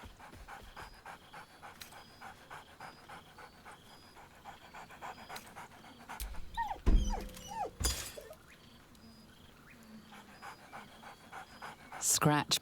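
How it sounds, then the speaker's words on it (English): Scratch the dog in Baldur's Gate 3 pants in quick, steady rhythm, then gives a few sharp barks and whimpers, with brief bursts of louder activity near the middle and end. "Scratch barks merrily in something like agreement."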